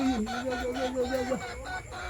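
A laying hen gives one drawn-out, fairly faint call lasting about a second, followed by quieter background noise.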